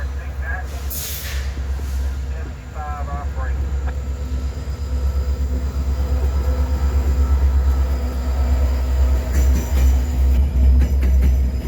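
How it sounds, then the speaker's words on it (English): A Kansas City Southern freight train led by a pair of SD70MAC locomotives rolls through a switch toward a yard, a heavy low rumble with wheel clatter and faint squeals, building steadily, with some talk early on. "we would catch KCS Job 111 with a pair of KCS SD70 Max rolling through the switch tender back to KCS's High Oak yard"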